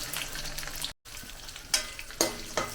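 Bay leaf, whole garam masala and carrot frying in a mix of ghee and oil, a close, moderate sizzle with a short dropout and a few sharp stirring clinks.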